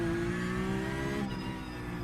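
A GTE race car engine howls at high revs on the Le Mans circuit in iRacing, loud and close, its pitch holding and then dropping as the car lifts off for braking.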